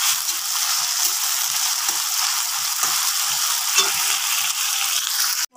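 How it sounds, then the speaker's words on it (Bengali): Chicken meat frying in a pan, a loud continuous sizzling hiss up close with soft periodic stirring taps underneath, ending abruptly. "তো গাইস, মাংসটাকে এবার ভেজে তুলে নেব।"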